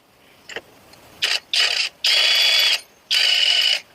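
A MASARU 1200 Nm impact wrench tightens tractor wheel nuts, giving a short tap followed by several loud hammering bursts of about half a second each, with brief pauses between them and no talk.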